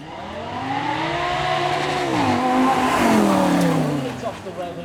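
A Lamborghini V10 supercar revs hard on a demo run at a supercar weekend, engine note rising and falling with a few pops on the overrun, close and loud throughout.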